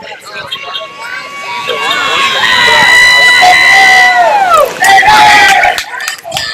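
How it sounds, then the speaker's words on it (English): Crowd cheering and shouting at a memorial softball tournament, a loud sustained roar of many voices that swells and holds, with a brief dip before rising again. "A lot of people are cheering."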